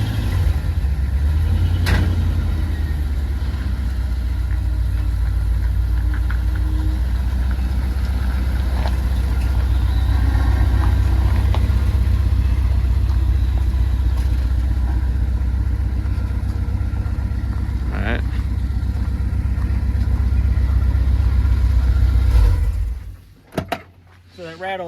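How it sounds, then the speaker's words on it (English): A 1994 Ford F-150 pickup idles with a steady low engine rumble, a loose exhaust adding faint rattles, while a person talks nearby before the sound cuts off abruptly near the end. "So that rattling sound, that's my exhaust."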